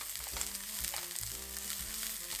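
Onions frying in a pan for a Vietnamese banh xeo, a steady close sizzle with crackling spatter running unbroken for a couple of seconds.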